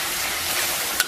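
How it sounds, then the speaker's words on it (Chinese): Pork intestines stir-frying over low heat in a wok with bean paste and chili sauce, giving a continuous near sizzle with one brief clink toward the end. "然后给它小火煸炒一下"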